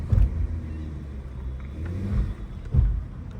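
A Porsche Cayenne with a PSM fault accelerates, producing a low, uneven rumble that swells in a few surges, with a hard thump near the start and another near the end. No voices are heard.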